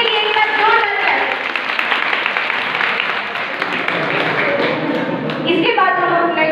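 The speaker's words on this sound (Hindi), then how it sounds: "इनके लिए इनका जोरदार ताली" A crowd claps loudly and continuously for blood donors at a college NSS camp, with voices talking through the applause.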